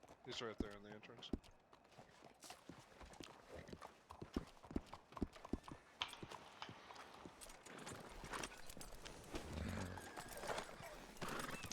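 A horse in the RedM video game neighs and its hooves clip-clop in close, uneven bursts. People talk over the hoofbeats.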